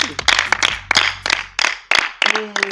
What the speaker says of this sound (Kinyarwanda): dushimire Imana munize amashyi